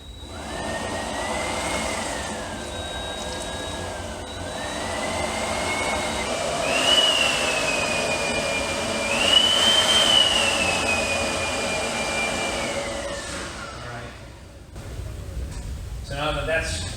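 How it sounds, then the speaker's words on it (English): Compressed air blasts through a radiator hose on a 2019 Honda Talon R during a coolant flush, a loud, sustained hiss with rising and falling whistling tones that stops abruptly near the end. "I'm going to blow air through the hose here, and so it comes out the other side"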